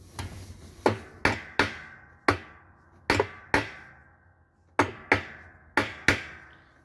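A hammer strikes a washing machine's wash plate to seat it back in place during reassembly, about a dozen sharp, close knocks coming singly and in quick pairs with short pauses between.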